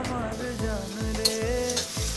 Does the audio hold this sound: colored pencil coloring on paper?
no